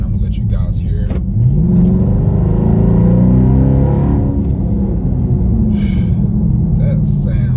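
A 2017 Dodge Charger Daytona fitted with Dynomax Race Bullets exhaust pulls away from about 20 mph, its V8 note rising in a loud, deep rumbling surge that climbs through the gears and holds close and strong.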